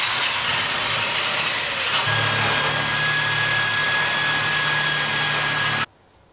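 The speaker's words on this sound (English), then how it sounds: "now I got a wire wheel underneath all this and get this cleaned out" A wire wheel scrubs the underside of a cracked Early Bronco hood, giving a steady loud abrasive whir with a high whine that runs unbroken for about six seconds, then cuts off abruptly.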